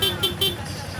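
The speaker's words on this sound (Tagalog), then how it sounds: "Pia Horn." PIAA horn fitted to a Yamaha Sniper 155 motorcycle gives two short, bright honks in quick succession, close by, over a low idling rumble.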